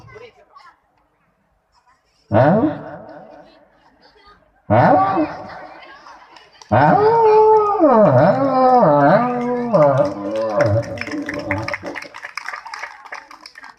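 A voice imitates dogs barking and howling at each other, first in two short barking bursts, then a long, warbling howl-and-bark exchange, fairly loud and close, with an audience present.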